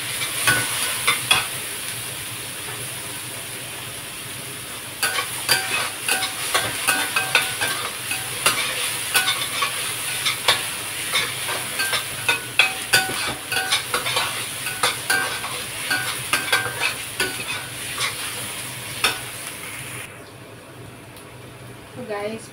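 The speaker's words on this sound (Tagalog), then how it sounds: "halu-haluin hanggang po brown color yan" Eggplant fries and is stirred in a pan until browned, a steady sizzle broken by repeated close scraping and clinking stirs, with talk heard briefly at times and the sizzle thinning out at the end.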